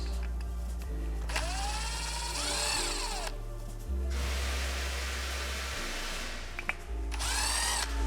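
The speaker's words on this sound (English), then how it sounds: "So to replace the factory LED board, we'll need to remove 2 T10 screws." Power driver whirring in short bursts as two T10 screws are backed out of the factory LED board in a Toyota MKV Supra A90/A91 headlight, each run rising in pitch, close and loud over a steady hum.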